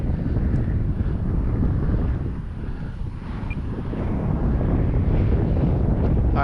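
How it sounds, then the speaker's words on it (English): Strong easterly wind of about ten miles an hour buffets the microphone at a model airfield in Avon Park, a steady loud low rumble that dips briefly midway, with no talking. "In this heavy 10-mile-an-hour wind out of the east,"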